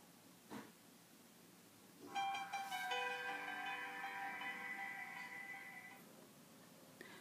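A T-Mobile Samsung Galaxy S4 powers back on and plays its startup jingle, a bright tonal chime lasting several seconds before it fades. A single click comes earlier, and the whole sound is quiet and close.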